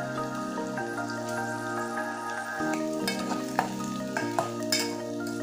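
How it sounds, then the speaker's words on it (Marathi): Chopped onion sizzling in hot oil in a home kitchen pan for Indian egg bhurji, a steady crackling fry with light stirring scrapes and occasional sharper pops, close and fairly loud with no talking. "तर आपला तेल तापलेला आहे. आता कांदा टाकूया त्यात."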